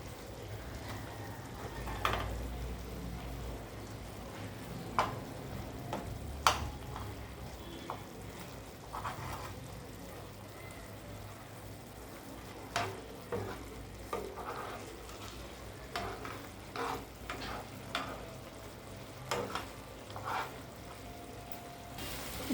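Egg masala stirred and frying in a pan: a steady low sizzle runs throughout, broken by repeated scraping and clinking strokes of the spoon at an irregular pace.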